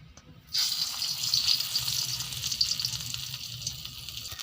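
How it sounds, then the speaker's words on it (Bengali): Spice-stuffed pointed gourd dropped into hot oil, a sudden hiss rising after a moment of quiet into a steady, fairly loud sizzle on a low flame, with no talk. "এবার মশলা ভরা পটল আমি তেলের মধ্যে দিয়ে দেবো এবং হালকা আঁচে ভেজে নেব"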